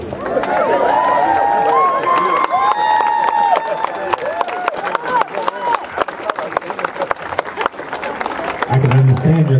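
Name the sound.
audience clapping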